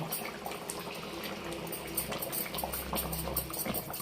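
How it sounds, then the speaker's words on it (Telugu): Fish curry gravy, Andhra style, bubbles and simmers in a pot, a quiet steady boil with soft popping close by. "ఉడికింది, బాగా ఉడుకుతుందండి"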